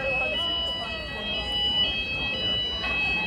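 A building fire alarm goes off at night, giving a steady electronic tone that holds throughout at moderate level over background murmur and voices of people gathered outside.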